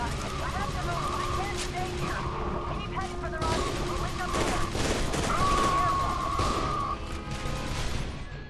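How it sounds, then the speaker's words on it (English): Sniper and other gunfire in the horror shooter F.E.A.R. 2: Project Origin, heard as a dense, continuous battle with repeated sharp shots and mechanical clatter mixed under someone talking throughout. "I just got popped by the snipers"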